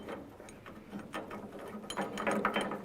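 A hand ratchet drives a lower screw into a Ford Ranger tailgate hinge bracket, giving quiet, close rapid clicking strokes in short runs, getting slightly louder toward the end.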